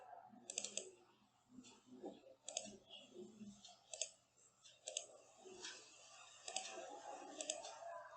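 Mouse buttons clicking repeatedly at a computer while working in software, sharp light clicks scattered across the stretch, some in quick pairs, with faint breathy noise and no talk between them.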